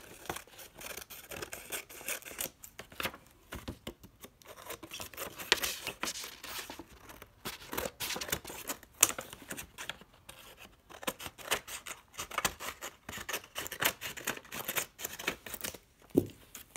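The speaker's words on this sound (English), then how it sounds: "you can go ahead and just cut off the excess paper" Scissors trimming excess paper off a cardboard piece for a DIY mailbox craft, a close, quiet run of repeated snipping and rustling paper with brief pauses, no talk.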